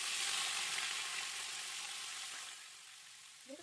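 Boiled potatoes hit hot mustard oil in a pan, giving a steady broadband sizzle that starts strong and gradually softens over a few seconds, with a small clatter at the very end.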